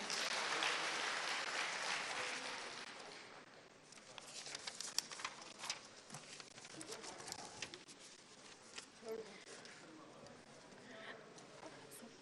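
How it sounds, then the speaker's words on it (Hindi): Applause from an audience of women at a government loan-distribution event for self-help groups, loud at first then thinning into scattered claps, with voices talking over it. "जोरदार तालियां"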